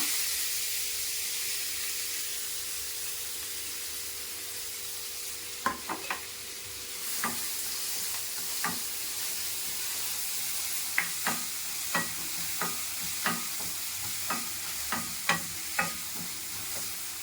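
Onions frying with cumin in a pan give a constant close hiss and sizzle, with a run of sharp spatula taps and scrapes against the pan building toward the end; no one speaks.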